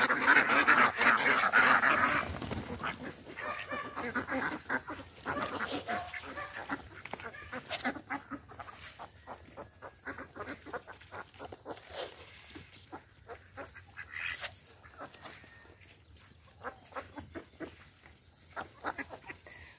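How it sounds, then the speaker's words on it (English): Hungry Pekin ducks and geese call and honk on a farm while being fed, starting with a loud burst of calls and settling into scattered, irregular quacks and rustling close by. "with my pecking ducks, I'm trying to give them as much food"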